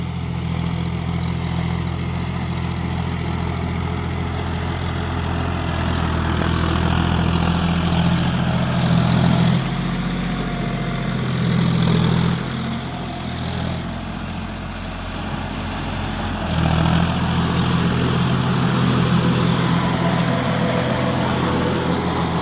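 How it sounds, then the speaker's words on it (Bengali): A John Deere 5050D 4WD tractor works a wet seedbed field, its diesel engine droning steadily while the attached rotavator gives off a low, uneven grumbling. The drone swells and eases at intervals and carries on without any speech. "রোটার থেকে একটা গড়গড় করে সাউন্ড আসছে।"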